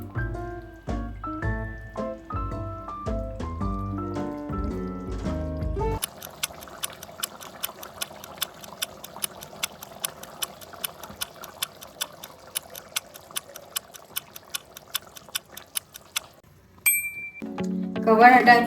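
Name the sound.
chicken stew being fried and stirred in a pot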